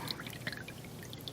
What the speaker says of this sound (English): every bit of water in the machine is going to drain forward and out